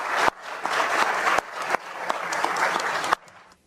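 Audience applause for Barroso heard in a Brazilian television news report, sustained clapping from a crowd with a few sharp edit cuts, staying steady before dropping away near the end.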